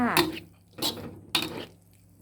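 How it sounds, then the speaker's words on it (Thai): Panang curry paste being stir-fried in a pan, heard as a few distinct scraping and clinking strokes of a utensil against the pan, close and moderately loud, with soft frying in the gaps. "พริกแกงของเราก็จะผัดไปเรื่อย ๆ จ้า พริกพะแนงพริกพะแนงค่ะไม่ใช่พริกแกง ผัดให้หอมไปเลยค่ะ"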